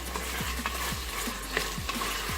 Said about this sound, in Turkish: Şimdi salçamızı atalım. Salçamızla kavuralım.